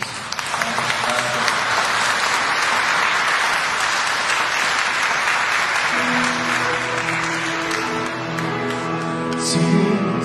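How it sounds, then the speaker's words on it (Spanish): A church congregation at a Spanish-language Father's Day Sunday Mass claps for its spiritual father, Father Jimmy, in dense sustained applause. Organ or keyboard chords swell in beneath the clapping partway through and carry on to the end. "para darle también un aplauso y agradecerle por todo lo que hace por nosotros"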